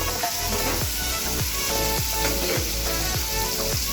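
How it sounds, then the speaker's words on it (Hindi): Ridge gourd frying in a pan, a loud constant hiss and crackle of hot oil with rhythmic soft scraping strokes of a spatula about every half second, close and steady, without talk. "अब हम तोरियों की तरफ आते हैं, इनको देखते हैं कि कैसे फ्राई है"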